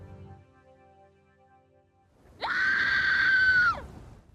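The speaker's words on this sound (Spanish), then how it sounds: "El grito es desgarrador" A long, piercing anguished scream of rage and exhaustion from a dramatic film scene bursts out loud and sustained for over a second after near silence, then cuts off sharply.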